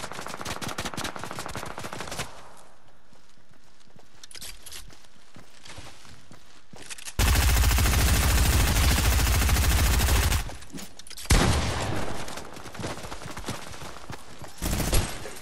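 Fortnite gunfire: scattered shots early on, then a long loud sustained burst of automatic fire lasting a few seconds, followed by further heavy volleys and single close shots, with no voices.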